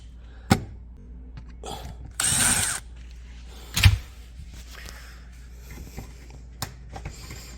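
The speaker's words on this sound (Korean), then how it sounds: "이 상태에서 따다다 풀고 이렇게 제껴주시면 빠집니다." A ratchet tool loosening the trunk light fixture of a Hyundai Palisade gives a short burst of rapid clicking amid scattered close knocks and plastic clunks, with no talking.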